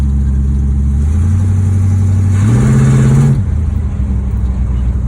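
A big-block engine in a classic muscle station wagon revs hard from inside the car, a loud deep rumble climbing in pitch, peaking briefly, then dropping back to a steady drone.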